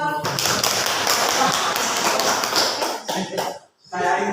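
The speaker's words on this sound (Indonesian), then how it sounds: "Kita beri aplaus" A classroom of students applauding group 4, dense clapping for about three seconds that thins into a few scattered claps, stops briefly, then resumes.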